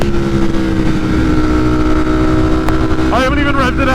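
Tuned motorcycle accelerating hard through its gears with short shifts at about three-quarter throttle, a loud, steady engine drone with rising pitch sweeps near the end, heard up close with wind buffeting.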